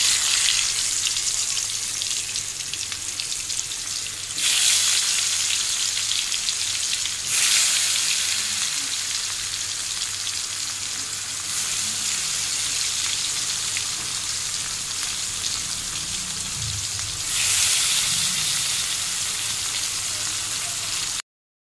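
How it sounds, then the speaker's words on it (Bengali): Bitter gourd slices coated in turmeric, salt and chili powder frying in hot oil in a home kitchen, a loud continuous close sizzle that surges in waves as pieces are added or stirred. "করলা ভাজার জন্য হলুদ গুঁড়ো, লবণ আর একটু শুকনো লঙ্কার গুঁড়ো দিয়ে মেখে ভেজে নেব।"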